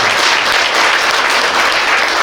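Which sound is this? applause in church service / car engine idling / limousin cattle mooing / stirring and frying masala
applause in church service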